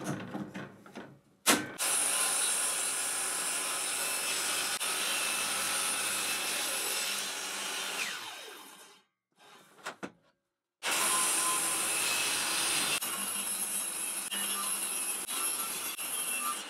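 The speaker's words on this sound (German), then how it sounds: "Und dann schneide ich die Platten für die Stützen zu." A power saw cuts panels for supports in a workshop, a loud sustained whirring roar broken by two short pauses before cutting resumes.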